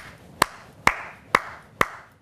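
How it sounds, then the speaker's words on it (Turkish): A TV presenter claps four times, slow and evenly spaced, each clap sharp and close, with no other sound between them. "Şimdi de ben sizleri alkışlıyorum."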